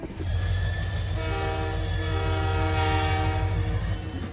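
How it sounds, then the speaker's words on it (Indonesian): A train pulls into a station with its horn blaring loudly and steadily, a sustained multi-tone blast over the low rumble of the rolling cars, with no talk. "mereka pun berangkat menggunakan kereta api"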